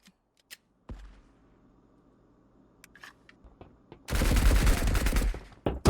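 Gunfire in the video game Marauders crackles in sparse, isolated sharp reports at first, then erupts into a loud, dense burst of rapid shots near the end, close and alone with no talk.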